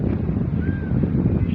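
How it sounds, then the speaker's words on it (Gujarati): Strong wind blows across a flooded cotton field, buffeting the microphone with a low, continuous rumbling roar that stays loud throughout. "હવા પણ જોર જોરથી ચાલી રહી છે।"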